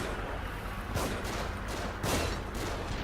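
Two loud gunshot bursts ring out about a second apart in the horror video game The Evil Within, over a steady, noisy background.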